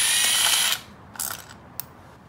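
A ratchet rapidly clicks while loosening a bolt on a Honda 400EX engine during timing chain and gasket work, one quick close burst of clicking followed by a couple of faint short clicks.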